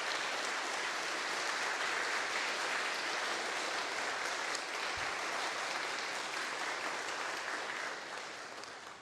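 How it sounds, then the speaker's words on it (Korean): A church congregation at a Sunday ordination service bursts into dense, steady applause for newly ordained deacons, a continuous wash of clapping that holds evenly for about nine seconds before easing slightly at the end. "이제 임직에 박수 쳐주셔도 됩니다."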